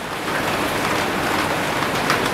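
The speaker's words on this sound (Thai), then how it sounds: "ยามฝนตกออกไปไหนไม่ได" Heavy rain falls steadily through the night in Thailand, a dense, continuous wash of hiss at an even, fairly loud level with no talk over it.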